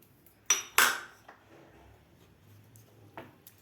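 Spoon stirring a pea mixture in a pan after water goes in, opening with two sharp metallic clanks and followed by softer scrapes and light taps against the pan.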